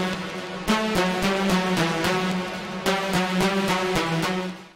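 A buzzy Serum synth lead of two saw waves plays a bouncy dark synthwave melody over a steady rhythmic pulse, loud and upfront, with no voices.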